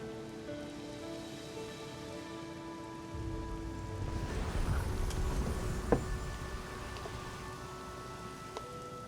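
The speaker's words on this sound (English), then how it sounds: "the rain is just beginning" Rain falls in the video game Flower, starting softly then building into a dense patter of drops around four seconds in, with sustained musical tones underneath and a few brighter drip accents.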